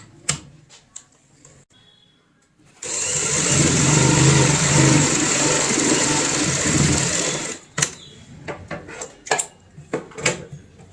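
A sewing machine runs a long basting stitch across cushion cover fabric, a loud, steady motor drone of about five seconds. Close fabric handling and sharp clicks come before and after it.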